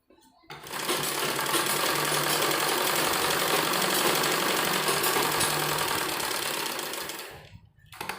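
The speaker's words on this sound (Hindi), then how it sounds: "सिर्फ आधा इंच का कपड़ा हमें छोड़ते हुए यहाँ पर सिलाई लेनी है इस तरीके से।" A sewing machine runs steadily while stitching a fabric sleeve, a fast continuous whirring rattle lasting several seconds that starts and stops abruptly, close-up, with no voice.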